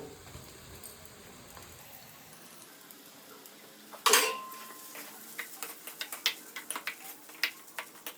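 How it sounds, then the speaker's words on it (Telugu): A spoon scrapes and taps in a pan as cooked rice is mixed into dry scrambled fried eggs for Telugu-style egg rice, starting with one sharp clatter and then irregular light clinks over quiet background hiss. "గుడ్లు బాగా పొడి అయిన తర్వాత అన్నం వేసి కలుపుకోవాలి"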